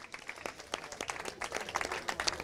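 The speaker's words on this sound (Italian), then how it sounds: "un applauso cumulativo perché adesso saliamo sul podio" Applause from the audience at a third-division football awards gala, fairly faint and scattered, a loose patter of clapping hands lasting a couple of seconds.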